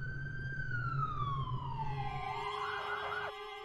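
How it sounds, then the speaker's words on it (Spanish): Police sirens wail in a video game scene, a steady siren tone sweeping slowly downward over a low rumble before cutting off near the end, moderately loud and alone. "las sirenas policiales sonando al fondo"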